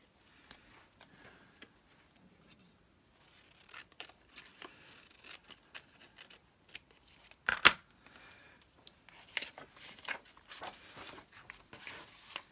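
Scissors snipping through paper in a quiet room, faint soft cuts and rustles building into a few louder snips near the end.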